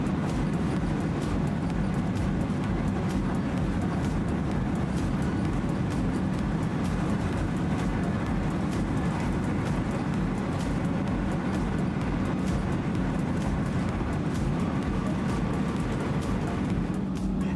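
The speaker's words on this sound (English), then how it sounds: "our train departs with the service to Bacchus Marsh." A V/Line H set commuter train runs steadily along the line toward Bacchus Marsh, its broad rumble and rolling wheel noise filling the space continuously and loudly, heard from on board with no one speaking.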